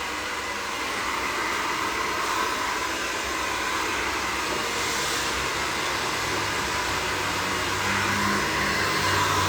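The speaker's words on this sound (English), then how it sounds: "This is a Babyliss dryer." A Babyliss hair dryer blows steadily at close range, its loud, even airy roar holding for the whole stretch with no pauses, during a bob haircut.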